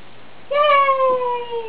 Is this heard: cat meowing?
yes